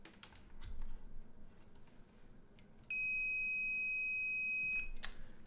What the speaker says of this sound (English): If you hear a beep, that's because we're still short.